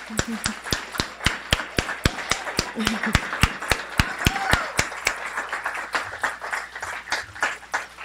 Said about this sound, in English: let's give each one of these heroes a well-deserved round of applause